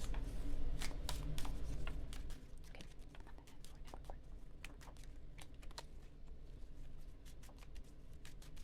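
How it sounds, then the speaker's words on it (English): Tarot cards being shuffled by hand, a run of soft, quick riffling clicks and taps close by, fairly quiet over a low steady hum, with no talk. "stay with me as I shuffle and draw the cards"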